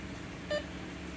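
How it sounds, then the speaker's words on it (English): A refrigerant leak detector on a Jeep Wrangler TJ air conditioning system gives a short electronic beep twice, first near the middle and again at the end, over a steady low background hum. "It'll beep. When it beeps really fast, it's bad."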